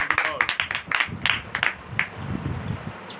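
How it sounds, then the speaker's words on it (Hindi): A church congregation gives loud, uneven clapping in praise, with separate sharp claps standing out and a crowd murmur underneath. "जोरदार तालियां यीशु के नाम के लिए"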